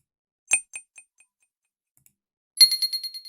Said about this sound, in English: Might be a coin sound.